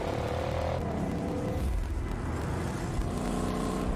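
Race cars drive in the Forza Motorsport video game, a steady engine drone with a passing car's pitch sliding early on, continuous and fairly loud with no voices.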